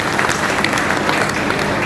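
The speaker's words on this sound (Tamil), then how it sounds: "நீங்களே கைதட்டுங்க." Audience applause at a public talk, a short burst of dense clapping from a crowd, fairly loud and continuous.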